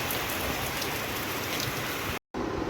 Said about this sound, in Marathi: एकदम जोरदार पाऊस चालू आहे